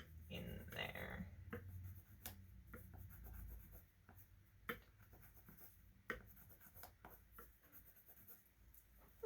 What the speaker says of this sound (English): now I'm going to take this orange colored pencil and just kind of add a little bit more color in there